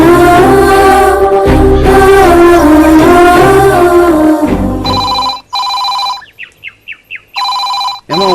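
A telephone rings in a home in a Tamil action film scene, its steady electronic tone coming in repeated bursts after loud music and voices fade out.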